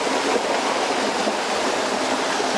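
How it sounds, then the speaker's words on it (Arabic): A small waterfall and stream flow down a valley near Fethiye, Turkey, as a loud, continuous broadband rush of water with no voices. "هذه المياه والجدول نازل من أعلى الوادي. أكو مثل الشلال الصغير"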